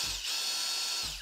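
Xiaomi Mijia cordless drill driver running, a steady high-pitched motor whine lasting about a second, with brief low thumps at its start and end, close and fairly loud.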